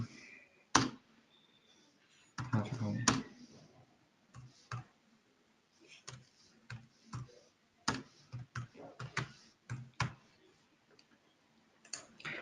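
Keys on a computer keyboard clacking in short irregular bursts as a report title is typed, sharp close clicks separated by brief pauses, with faint talk in the background.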